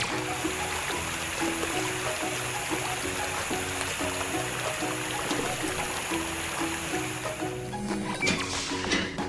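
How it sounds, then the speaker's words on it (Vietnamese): Steady hose spray in a cartoon kids' car wash, a continuous stream of water hissing and splashing at close range, with a looping music bed underneath and no talking. "Vòi nước sẽ làm kẹo cao su mềm hơn một chút."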